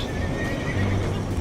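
A horse in Red Dead Redemption 2 whinnies loudly, a shrill wavering neigh lasting about a second over a dense rumbling background.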